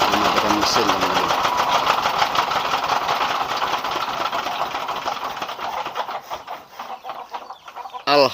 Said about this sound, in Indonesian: Proses mematikan mesin teman-teman.